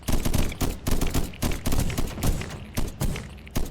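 Cannon turrets fire in a swarm-defence video game, a loud, dense, rapid succession of booming shots that keeps going like a sustained barrage.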